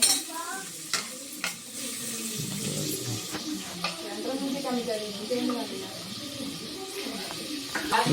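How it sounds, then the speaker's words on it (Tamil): Onions frying in a pan while a spoon stirs them, a soft steady sizzle with scraping stirs coming and going, quiet and close, with someone talking over the cooking now and then. "வெங்காயம் போட்டாச்சு"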